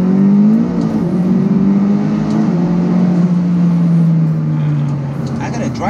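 A McLaren Speedtail hypercar engine drones steadily while driving, holding a low constant tone that falls slightly near the end. A voice talks over the engine noise.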